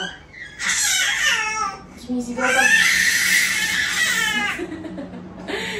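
A young child in long sleeves screams and cries from the heat, loud sustained wails with a brief pause between two bursts, close to the listener.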